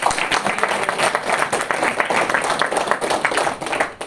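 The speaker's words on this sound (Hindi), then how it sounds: "तो योकोविच के लिए जोरदार तालियां तो होनी चाहिए" An audience applauds loudly and steadily for several seconds, a dense patter of many hands clapping together at close range.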